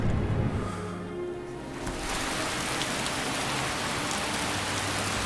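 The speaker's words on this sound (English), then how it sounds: "Get the hell out of the rain." Steady rainfall in Skyrim Special Edition hisses as a dense, loud wash after an opening moment of low rumbling ambience, continuous and close with no talk.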